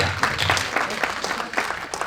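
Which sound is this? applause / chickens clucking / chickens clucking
applause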